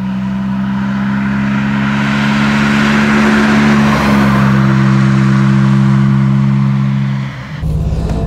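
A 1955 Jaguar XK 140 DHC engine pulls strongly while driving, a loud steady drone that swells slightly before easing off near the end, with no voices.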